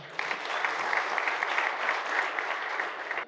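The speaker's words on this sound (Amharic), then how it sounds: "ስለዚህ ለሀበሻና ለማኔጅመንቱ አንዴ ሞቅ ያለ ጭብጨባ።" A warm round of applause rises from the crowd at an Ethiopian awards ceremony honoring the organizers, steady dense clapping that starts abruptly and holds evenly for a few seconds at moderate distance.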